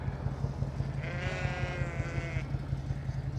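Ewes and lambs bleating at feeding time on a farm, a few overlapping calls rising in the middle of the stretch over a steady low engine hum nearby.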